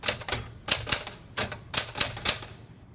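A 1969 Smith Corona Super Sterling manual typewriter struck key by key, with about eight sharp, close metallic clacks in an uneven rhythm and short gaps, each with a faint mechanical ring.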